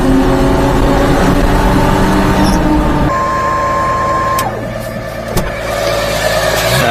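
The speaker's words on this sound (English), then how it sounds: "That belt's slipping." A slipping supercharger belt on a mini-truck engine, with a boosted engine running loud and close, a steady mechanical drone with a shifting whine and a couple of sharp clicks.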